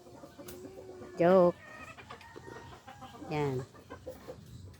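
Hens on a farm in Batangas clucking, two loud drawn-out calls and softer clucks scattered around them, close by, with a person speaking briefly.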